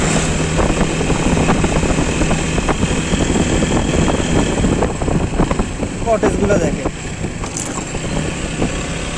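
A motorbike rides along a hilly road in Chittagong, its engine and wind making a constant loud rumble. Someone talks over the noise for most of the ride.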